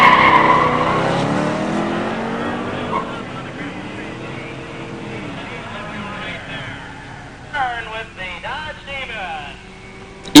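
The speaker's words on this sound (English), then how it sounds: "In the near lane, George Eberst, 71 Demon 340 automatic." A drag race launch pitting a 1971 Dodge Demon with a 340 automatic against a 1986 Corvette 350 automatic, the engines revving and pulling away under an announcer's steady talk, with a louder burst of engine and tire noise near the end.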